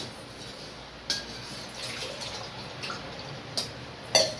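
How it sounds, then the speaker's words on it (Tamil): Water is poured into a pot for tomato rice, giving a steady soft splashing rush punctuated by a few light clinks. "இப்போ தண்ணி ஊற்றிக்கலாம்."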